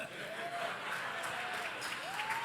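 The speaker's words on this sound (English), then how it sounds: "Those people who are lubricated are clapping very hard" A steady, fairly quiet audience applause fills a debate hall on driverless cars, with a diffuse wash of many clapping hands and a few whoops rising over it throughout.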